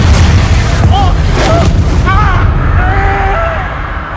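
Booming spell explosions from a fantasy video game, Confringo blast curses, thunder over a loud, dense mix with a constant low rumble, layered with whistling magical tones and voiced shouts.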